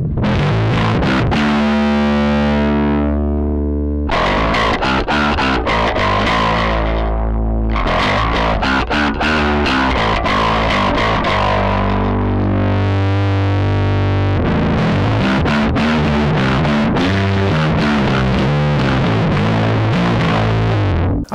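Distorted bass guitar through an Aguilar Tone Hammer 350 head with the midrange cut, loud fuzzy notes and phrases played continuously with short gaps, heard alone without speech.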